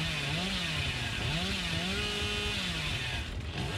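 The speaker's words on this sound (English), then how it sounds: "I need to get rid of the chainsaw so I can actually hear them." Chainsaw revving in the Dead by Daylight video game, a loud, continuous buzzing engine whine that wavers up and down in pitch throughout, with no talk over it.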